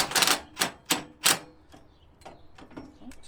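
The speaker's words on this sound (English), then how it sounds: "Now we'll hold that in place and we'll tighten this down." Metal nuts being tightened by hand on the front leveling jack of a 5th wheel trailer: four sharp, loud clicks and clanks in quick succession, followed by softer, scattered ratcheting taps.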